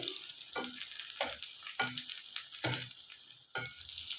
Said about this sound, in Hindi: इन्हें बहुत ही अच्छे से फ्राई करेंगे, इनका हल्का सा कलर चेंज हो जाए।